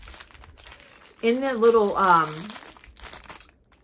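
Plastic wrap packaging inside a package crinkles and rustles close by while someone talks over it.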